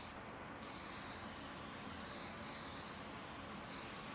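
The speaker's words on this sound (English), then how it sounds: "ready to put our second coat of pearl" A paint spray gun lays down a second coat of pearl on a tri-coat job, giving a steady, continuous loud hiss of atomised spray close by after a brief quiet start, with no talking.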